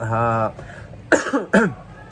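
A person coughs a few times in quick, sharp bursts, close up, after a brief hummed or voiced sound.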